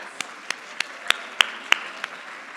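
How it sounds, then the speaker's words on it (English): An audience at a women's event claps politely, with a few separate sharp claps over a soft, sparse patter of applause in a room. "Everyone give them a round of applause."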